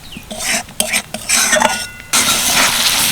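Spices being stir-fried in a pan over medium-low heat for a cabbage dish, with repeated scraping and clanking of a spatula against the pan and a steady sizzle filling the stretches between strokes.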